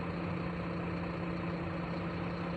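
A ready-mix concrete truck's engine idles at a construction site in Singanallur, a steady, continuous low rumble with a constant hum, close and unbroken, with no talk.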